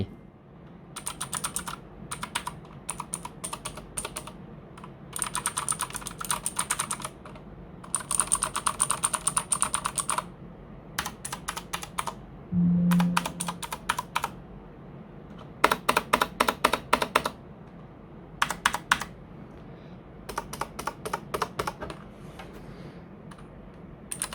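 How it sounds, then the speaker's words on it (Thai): Clicky mechanical keyboard with blue switches, a NUBWO X30 Terminator gaming keyboard, typing in bursts of rapid, crisp keystrokes with short pauses between, recorded close with no talking. "ฟังเสียงกันสักหน่อยไหมครับ ว่า เสียงบลูสวิตช์ตัวนี้เป็นอย่างไร"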